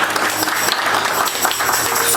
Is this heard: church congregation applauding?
yes